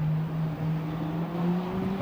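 Caterham Superlight race cars battle closely at Rockingham, a steady engine drone heard from a distance that climbs slightly in pitch over two seconds.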